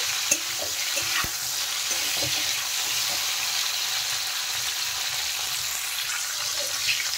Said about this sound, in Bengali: এদিকে দেখেন ফুলকপিগুলো কিন্তু অনেকটা ভাজা ভাজা হয়ে গেছে